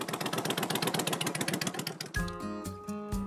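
A motorcycle engine idles on Madeline Island, Wisconsin, just off the ferry, giving a steady close, pulsing rumble for about two seconds before it cuts abruptly to sustained tonal music.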